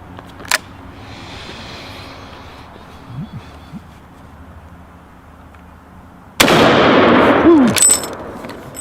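A .375 H&H Magnum rifle fires one sharp, loud outdoor shot that rings out with a short decay, after a quiet stretch holding a faint earlier crack and light background sound.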